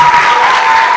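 A hall full of people at an induction ceremony for newly qualified medical and dental practitioners claps for parents and guardians: dense, steady, loud applause filling the whole moment without a break.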